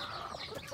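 Brief, soft clucking from chickens in a brooding pen, low murmuring calls heard alone without talk.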